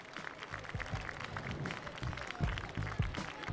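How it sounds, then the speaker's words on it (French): Audience at an agricultural show applauding, a soft continuous patter of clapping with low thumps and background crowd noise, fairly faint and distant. "vous pouvez vraiment l'applaudir, Adèle."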